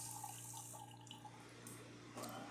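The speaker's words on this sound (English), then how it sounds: "Yep, the machine rinsing, clean itself." A DeLonghi Eletta cappuccino machine runs its rinse cycle, water trickling and dripping faintly over a low, steady pump hum, quiet and close with a small gurgling burst near the end.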